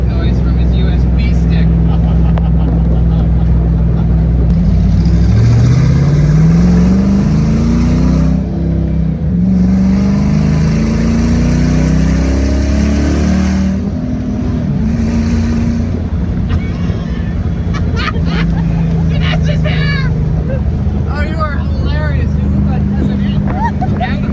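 A Chevrolet Blazer drives over bumps, giving a loud continuous engine drone that rises in pitch as it accelerates, along with wind and cabin noise, while people talk throughout.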